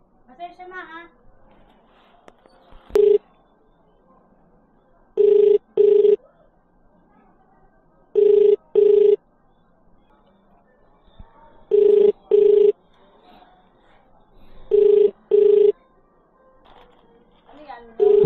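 A telephone ringback tone sounds during an outgoing call, six paired double rings spaced evenly apart, clear and close, with quiet background murmur between them.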